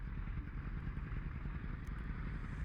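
A Focke-Wulf FW-190's engine in Microsoft Flight Simulator 2020 winds up to 2700 RPM on the takeoff roll. It makes a loud, continuous, gritty roar, dense and unbroken, with a rattling low rumble throughout.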